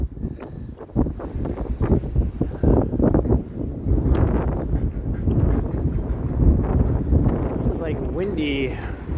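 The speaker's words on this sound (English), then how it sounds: "windy as heck." Strong, gusty wind roars and buffets the microphone continuously on a Toronto street on a cold winter evening, with a person talking over it.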